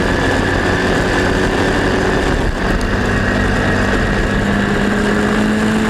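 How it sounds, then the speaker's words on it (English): Historic Formula Ford race cars run at Brands Hatch, a loud continuous engine drone with steady pitch and a brief dip midway, close and alone without talk. "The speed sport car looking very planted, and Bartel trying to shorten his run down t"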